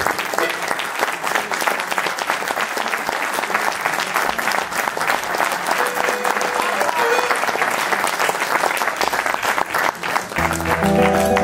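Sustained audience applause for the singer at a Galician musical tribute concert, dense and steady throughout, with music beginning faintly near the end.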